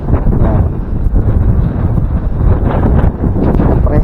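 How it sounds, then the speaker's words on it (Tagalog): Strong wind blowing across an open farm plot, a steady, loud rushing buffet that fills the microphone with rumbling gusts throughout, with no other sound standing out. "Lakas ng hangin."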